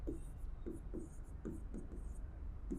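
Chalk or marker writing a sentence on a board, short scratchy strokes in quick bursts roughly every half second, close and fairly clear, with no talking.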